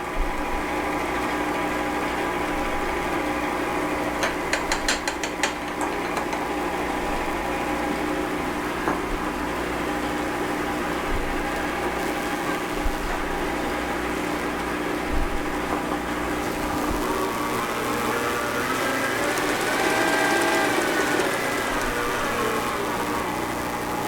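An electric mixer beats New York cheesecake batter in a bowl, a continuous mid-pitched motor whir that holds steady throughout with faint rattling of the beaters.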